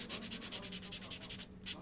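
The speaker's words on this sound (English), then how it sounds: "We're gonna start sanding all the things." Rapid, rhythmic scratching of sandpaper rubbed back and forth on a wooden craft-kit piece, about a dozen quick strokes close by, then a brief pause and one more stroke.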